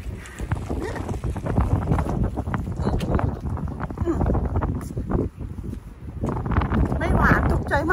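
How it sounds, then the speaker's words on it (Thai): Wind blows outdoors, buffeting the microphone with steady, rough rumbling gusts, while people talk loudly over it throughout. "โอ้ยลม"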